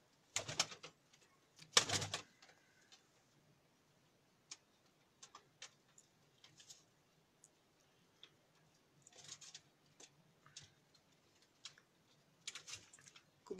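Scattered soft coos and wing flutters from breeder pigeons, with a few sharper taps and clicks, fairly quiet and intermittent, with no talking.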